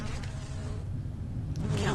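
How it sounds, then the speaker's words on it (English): Flies swarm and buzz close by in the Corpse Party: Book of Shadows video game, a dense droning hum that swells and fades slightly over the two seconds. "Their buzzing wings sounded right up against my ears as if they were attacking me."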